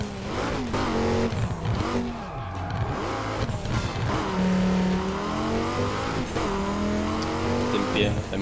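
A car races in the video game Burnout Paradise Remastered, its engine droning loud and steady with rising and falling revs and tire squeal throughout, while a person talks over the gameplay.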